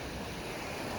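Atlantic Ocean waves wash onto a beach at Playa Nanín in Sanxenxo, Galicia, Spain, heard as a steady, dense roar of surf with some wind, with no voices.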